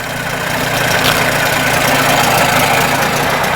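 A Johnson 15 outboard engine idles with a loud, steady, even rumble that holds without a break from start to finish.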